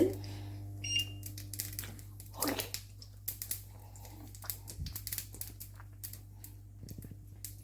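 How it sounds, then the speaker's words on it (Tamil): Mustard seeds spluttering in hot oil for a capsicum chutney, a rapid scatter of sharp crackles and pops throughout over a steady hum. "கடுகு நல்லா பொரியுது"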